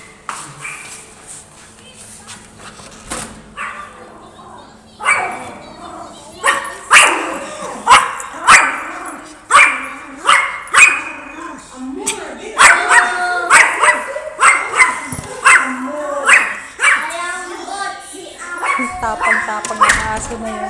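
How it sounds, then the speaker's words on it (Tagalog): A dog at a neighboring house barks repeatedly in sharp, loud bursts with some yips and whimpers mixed in, close by and overlapping with a person talking. "tumatahol na naman yung aso"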